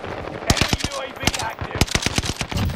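Rapid bursts of automatic gunfire in the battle royale game Warzone, a dozen or so sharp, close, loud shots in uneven clusters over a steady background of in-game noise, with no talking.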